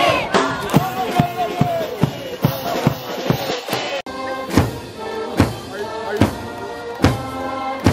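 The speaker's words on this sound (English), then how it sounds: "Yeah, it's Keio cheering" Keio University baseball fans chant cheering songs in the stands, a crowd singing with rhythmic claps or drum hits at steady intervals, lively and somewhat distant, with crowd noise throughout.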